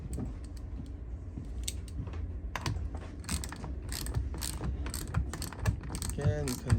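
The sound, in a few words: ratchet tightening nut on motor screw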